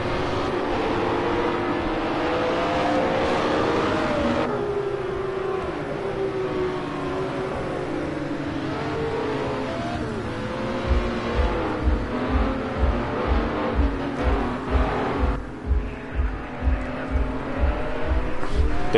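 Race car in Project Cars 2 on Road America cruises a formation lap, a steady engine drone with shifting pitch, then a rapid, regular pulsing rumble in the second half as the car rolls on down the straight.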